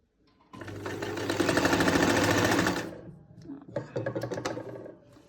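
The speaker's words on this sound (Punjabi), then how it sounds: "ਇੱਥੋਂ ਦੇਖੋ ਆਪਾਂ ਹਲਕੀ ਜੀ ਸਲਾਈ ਡਬਲ ਕਰਦੇ ਹੁੰਨੇ ਆ" A sewing machine stitches a pleat on a lined kameez shirt, running in one loud continuous burst of rapid needle chatter for about two seconds, then a few shorter uneven bursts, with no talking.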